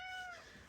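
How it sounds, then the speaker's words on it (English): Pet cat Luna lets out a single short, fairly soft meow, close by and heard alone. "If you hear noises, that's my cat Luna."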